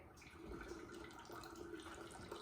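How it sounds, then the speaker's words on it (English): Water is poured over dry ice, giving a steady, close rushing and bubbling hiss that runs continuously without pause. "And the dry ice, you can just keep pouring more water over it"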